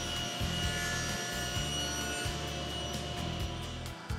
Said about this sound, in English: I can make my second cheek cut to complete the tenon.